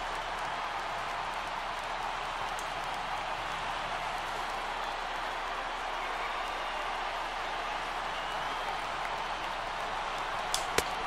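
Large stadium crowd of over 39,000 in MLB The Show 18 roars steadily on their feet at a baseball game, a dense, continuous wash of cheering with a brief sharp crack near the end.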